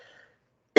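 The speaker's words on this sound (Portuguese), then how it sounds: "vocês vão ter que conviver com essa tosse de vez em quando" A single sharp cough bursts out at the very end, loud and close, after a faint murmur that trails into silence.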